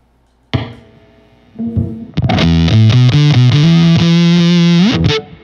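A heavily fuzzed electric guitar through an EarthQuaker Devices Erupter fuzz pedal: a single distorted note, then a thick, sustained buzzing line that slides between pitches before cutting off.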